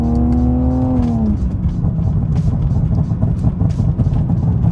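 A BMW E46 fitted with retrofitted Steptronic/SMG paddle shifters drives normally, its engine droning loud and steady with a falling pitch sweep early on as a gear changes, then rumbling on beneath road noise.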